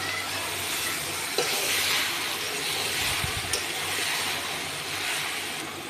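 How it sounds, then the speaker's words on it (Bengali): Water pours and splashes steadily into a pan of jackfruit curry for boiling, a continuous hissing gush with a couple of small clinks, and no voice over it. "সিদ্ধ করার জন্য একটু জল দিয়ে ঢেকে দেব"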